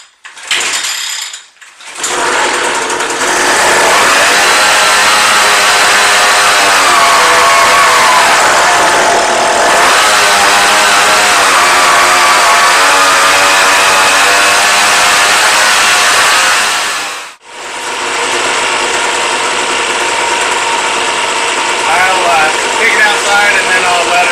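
A Hangkai 3.6 hp outboard motor runs in a closed garage: a loud, steady, buzzing drone that holds for long stretches, stops briefly, then starts again and keeps running.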